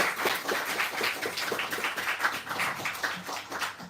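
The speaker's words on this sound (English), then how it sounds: "Another round of applause, please, for Alicia, Naomi, and Andres." Audience applause for readers at a book fair, a dense patter of many hands clapping at a steady, moderate level, continuing for the full stretch without voices.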